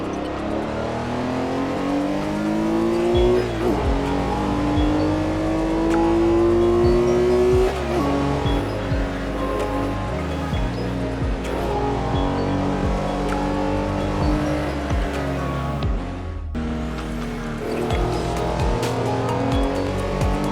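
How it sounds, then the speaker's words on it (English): Race car engine at top speed in the Assetto Corsa racing game, held near 160 mph in fifth gear, a loud continuous high-revving drone with pitch climbing and shifting, a brief dip near the end, no talk. "hauling ass, top end in 5th gear, hitting nearly 160 miles an hour"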